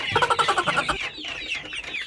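Two-month-old Rhode Island Red chickens cluck in a quick rhythmic series, then a busier stretch of overlapping farmyard clucks and calls, fairly close.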